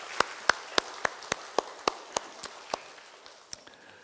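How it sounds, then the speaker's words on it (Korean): A church congregation claps during a Sunday service, about a dozen sharp, evenly spaced claps in a quick unison rhythm, fairly close, then thinning out to a few scattered claps. "우리 함께 우리 영광과 감사의 박수를 한번 돌려드리겠습니다"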